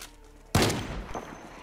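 A single loud gunshot in the zombie survival game Project Zomboid, fired through a window, a sudden sharp blast followed by a short decaying echo.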